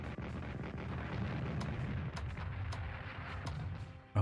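Artillery fire in the strategy game Strategic Command: a continuous low rumble of distant booms and explosions with scattered sharper pops, moderately quiet throughout.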